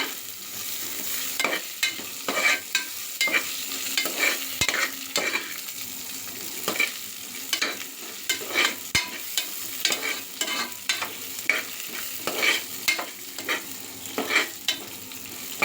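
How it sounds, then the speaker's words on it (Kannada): Chopped tomato frying in a pan for chicken biryani, a steady close sizzle broken by repeated sharp spatula scrapes and stirring knocks throughout, with no talking. "ಈಗ ಒಂದು ಟೊಮೊಟೊನ ಅದರೊಳಗೆ ಹಾಕ್ಕೊಳ್ಳಿ ಇದೊಂದು ಎರಡು ನಿಮಿಷ ಫ್ರೈ ಮಾಡಿದ್ರೆ ಸಾಕು"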